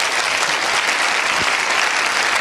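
Applause from the audience at a Bible study in Berlin, a dense, loud burst of clapping that keeps up without a break.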